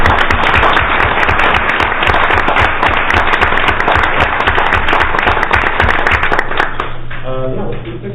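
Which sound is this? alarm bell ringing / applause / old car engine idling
applause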